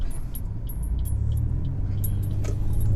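Chevy Impala driving down a road, a steady low engine and road rumble with light rattling jingles on top, close and continuous throughout.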